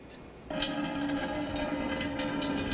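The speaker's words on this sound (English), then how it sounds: "we're going to drain the coolant out" Coolant from a 2004-2009 Toyota Prius pours out of a loosened drain valve into a drain bucket: a steady trickling, splashing flow that starts suddenly and runs on close by without pause.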